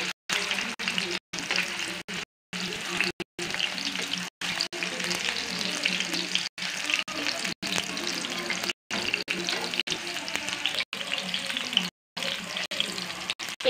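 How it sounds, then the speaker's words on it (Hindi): Nargisi kofta, egg koftas, frying in hot oil, a busy crackling sizzle broken by many short silent cuts, with a little talk mixed in. "अब हम नरिसी कोफ्ते फ्राई करेंगे"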